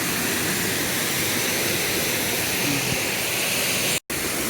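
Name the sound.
waterfall in Brecon Beacons, Wales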